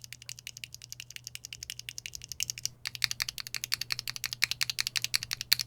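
Rapid, steady typing on a keyboard fitted with stock Gateron Oil King linear switches and SA profile keycaps, a dense run of crisp clacks with a brief pause midway, close and alone with a low constant hum beneath.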